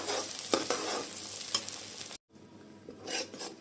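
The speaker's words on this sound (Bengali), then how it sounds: "এই তো পেঁয়াজটা ভেজে নেওয়া হয়ে গেছে।" Cubed onions fry in hot oil for green hariyali chicken, giving a steady close sizzle broken by a few sharp stirring scrapes, a momentary drop to silence, then the sizzle resumes.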